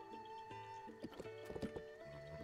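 Horse mount in Zelda Breath of the Wild, a quick cluster of hoof clip-clops and thuds, faint and brief, over a soft sustained musical drone.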